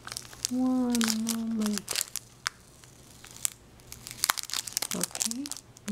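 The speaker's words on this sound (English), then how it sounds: "Let me peel off the price sticker." A price sticker is peeled off a drawing pen, giving soft, close crinkly tearing and small clicks after a short spoken phrase.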